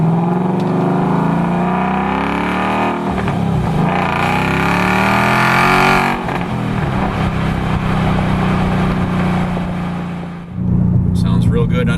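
A Mustang GT fitted with an MRT cat-back performance exhaust accelerates with a loud, continuous engine roar that climbs and shifts, heard from inside the car while someone talks over it.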